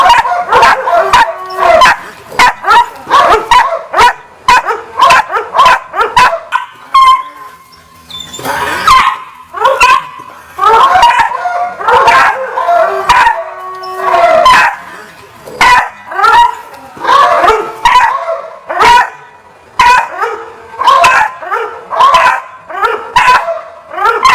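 Puppy in bite protection training, loud close barking in rapid repeated bursts with yips and growly whines, short pauses between volleys, no talking.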